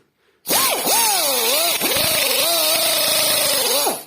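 Pneumatic nibbler shears cutting sheet metal, a loud continuous high-pitched whine with sweeping pitch bends that begins abruptly after a brief quiet moment and runs steadily close by.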